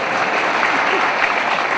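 Audience applause at a kavi sammelan in Indore after the Ganesh aarti, a dense, loud, continuous clapping crowd heard close and steady for the whole moment.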